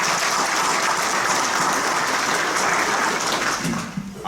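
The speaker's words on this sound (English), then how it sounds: "Let's give them a round of applause." An audience at a county public forum gives a dense, steady round of applause, loud and continuous before tapering off sharply in the final moments.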